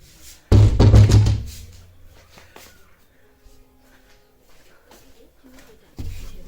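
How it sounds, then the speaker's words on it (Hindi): A household door is pushed shut in a home kitchen with a single loud thud near the start, followed by quiet room noise and a smaller knock near the end. "दरवाज़ा भी बंद कर लेता हूँ"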